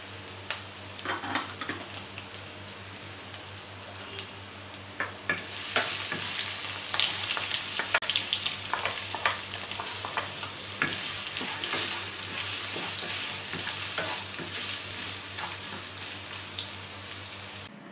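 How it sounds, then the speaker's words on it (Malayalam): Green chili, ginger, curry leaves and shallots are sautéed in a pan for a clam stir-fry, giving a steady close sizzle with scraping stirs that grows busier midway and continues without talk. "അതിലേക്ക് അരിഞ്ഞു വെച്ചിരിക്കുന്ന പച്ചമുളക്, ഇഞ്ചി, വേപ്പില, ചെറിയ ഉള്ളിയും ചേർത്ത് നല്ലതുപോലെ വഴറ്റി കൊടുക്കണം"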